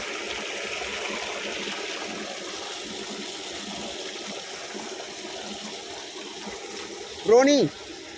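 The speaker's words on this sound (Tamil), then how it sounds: "தண்ணி ஓடுற சவுண்டு தான் அது." Rainwater from a recent downpour rushes steadily through a street drain nearby in an even, continuous wash, and a short voice cuts in near the end.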